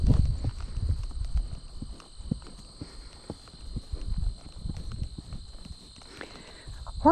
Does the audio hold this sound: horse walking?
yes